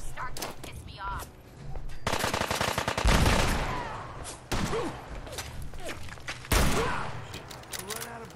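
Bursts of rapid automatic gunfire in the modded video game Fallout 4, loud and close, come in several separate volleys with short pauses between them, and a voice is heard between some of the bursts.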